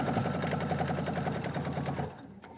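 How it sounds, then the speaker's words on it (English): Husqvarna Viking sewing machine stitching down quilt fabric for a landscape quilt, a steady rapid needle rhythm running close and loud for about two seconds before stopping abruptly. "let's sew it down."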